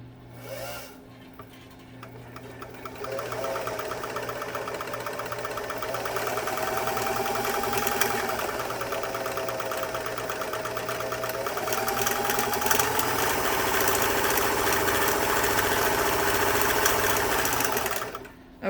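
A vintage sewing machine runs steadily after oiling, its motor whirring and needle mechanism chattering close by, speeding up slightly partway and stopping near the end; no talking.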